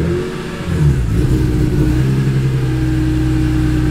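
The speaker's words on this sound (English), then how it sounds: "It makes the engine rev." A BMW E46 M3 engine idles low and then revs up, holding a steady mechanical drone close by with no voices.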